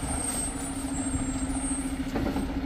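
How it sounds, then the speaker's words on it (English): A water truck maneuvers into position at a water well drilling site beside a lake, its engine droning steadily with a sustained tonal whine and faint reversing-style beeps, fairly distant and continuous throughout. "Mike's getting a water truck in spot right now."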